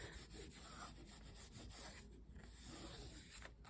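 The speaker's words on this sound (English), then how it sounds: "Give it a good burnish." Paper is burnished firmly along the cardboard edge of a budget handmade memory journal, giving soft, continuous rubbing strokes close to the microphone.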